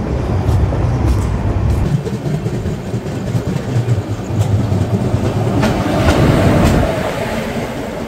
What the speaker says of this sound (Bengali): আর এদিকে কিন্তু লালগোলা প্যাসেঞ্জার কিন্তু কৃষ্ণনগর ছেড়ে রানাঘাটের দিকে বেরিয়ে যাচ্ছে।